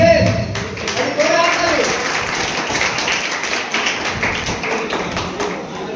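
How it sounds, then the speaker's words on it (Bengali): A group of people, trainees at a teachers' training institute, clap hands in a brief burst of applause over a busy indoor room, while people talk. "হাততালি এটাই।"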